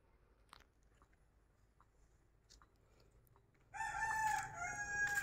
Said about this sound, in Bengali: যাই, মোরগ ডাকিতেছে,